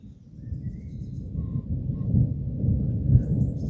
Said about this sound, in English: a really good rumble of thunder